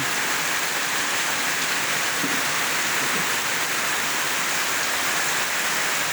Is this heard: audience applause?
no